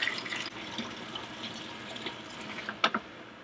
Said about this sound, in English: vinegar being pumped up through the sump pump, running through the heat exchanger, and then coming out the hot water outlet